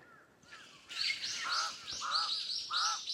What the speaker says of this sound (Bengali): কাক ডাকতেছে